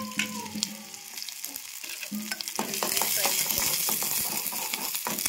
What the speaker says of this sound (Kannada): ಜೀರಿಗೆ ಸಾಸಿವೆ ಚಟಪಟ ಅಂತ ಇಡ್ಲಿಕತ್ತಾವ